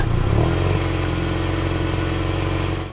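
Car engine idling smoothly and steadily, a close, even hum with a low, continuous tone that holds at a constant level for about three seconds before cutting off.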